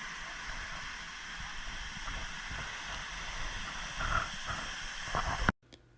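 Steady rushing water from a waterfall in Kauai roars as a constant broad hiss for several seconds, then cuts off abruptly near the end.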